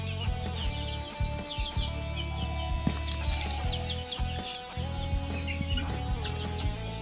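Farm chickens cluck repeatedly while being fed mixed greens and grass, their short clucks and calls scattered close by over a steady low hum.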